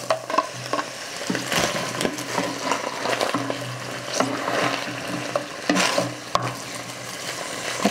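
Squash pieces being added and stirred in a pan alongside browned beef steak, sizzling and frying close up with irregular spatula scrapes and clatters over a steady hiss.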